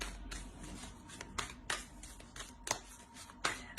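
Oracle cards are shuffled close by in quick, soft riffles and flicks, a handful of sharp papery bursts over a quiet background.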